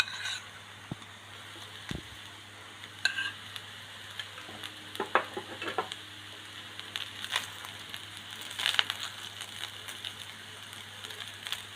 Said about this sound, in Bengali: ভালোভাবে মিক্স করে নিচ্ছি সসের সাথে।